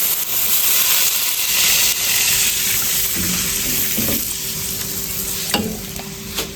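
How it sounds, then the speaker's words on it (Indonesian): Onions and spices sautéing in a pan for tofu-ball soup, a steady loud sizzle with faint stirring clinks near the end and no voices. "Kita tumis sampai wangi"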